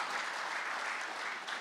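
Applause from an audience at a convocation and awards ceremony, a dense, even patter of many hands clapping, steady and moderately distant for the whole moment with no voices over it.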